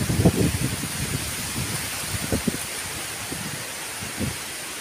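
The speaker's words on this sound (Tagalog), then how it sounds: "OMG, lakas ng hangin." Strong wind gusts through leaves on a hillside farm, a steady close rush of broadband noise with wind buffeting the microphone and a few low thumps early on.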